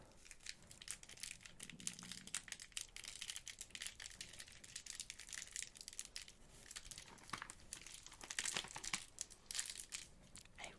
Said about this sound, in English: They also have that really crinkly wax paper.